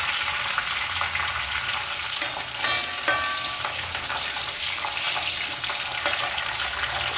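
Curry leaves and garlic drop into hot oil for a Chettinad mushroom butter bean kuzhambu, crackling in a loud, steady sizzle with sharp pops and spatters scattered across it, and no one speaking.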